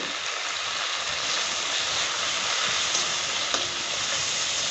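Spices with turmeric, chili powder and salt frying in oil in a pan for tilapia curry, a continuous close hiss of sizzling that holds steady throughout.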